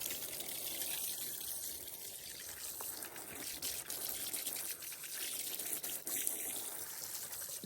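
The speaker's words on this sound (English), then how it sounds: "So I went ahead and put 2 gallons of water in each one." Water runs steadily into a camping shower bag holding about two gallons at an off-grid homestead, a soft continuous trickle and hiss that stays faint and even with no talking.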